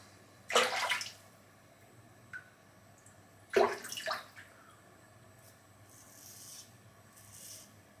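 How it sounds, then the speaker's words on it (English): A palm is dipped in water and rubbed over King of Shaves Sensitive shaving gel on a head being shaved: two wet splashing, smearing swishes close by, then quieter faint rubbing. "So I'm just going to dip my palm once and rub it on once"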